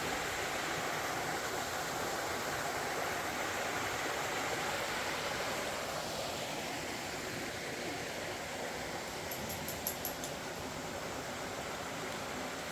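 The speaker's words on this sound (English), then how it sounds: "got another waterfall up here" A waterfall on a hike near Slot Creek gives off a steady, full rush of falling water that holds an even level from start to finish, with no voices over it.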